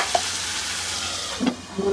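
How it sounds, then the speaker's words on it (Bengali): Boiled eggs are stirred and fried in spice paste for a curry with dried ribbonfish. There is a close, continuous frying hiss, and a couple of soft stirring scrapes near the end of the short clip. "ডিমগুলো দিয়ে ভালোভাবে একটু নেড়ে ফেড়ে আবারও চাপা দিয়ে দেবো মশলা আর ডিম একদম ভাজা ভাজা করে ফেলবো"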